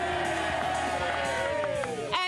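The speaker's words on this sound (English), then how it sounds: "It's time to cheer for the best goal." Members of a Portland FC grassroots football club raise a steady cheer with whoops for a teammate's goal, a sustained blend of excited voices lasting a couple of seconds and brightening at the close.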